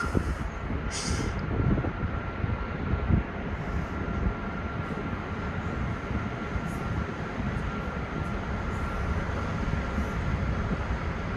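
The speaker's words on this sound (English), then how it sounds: "So the side thrusters going there." A cruise ship's side thrusters run as a low, steady rumble that carries on without a break through the whole stretch, heard from the deck in the Norwegian fjords.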